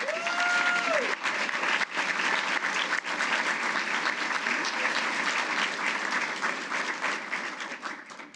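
An audience at a government agency's employee awards ceremony gives the award winners a full round of applause, steady and dense from start to finish before tapering off at the end.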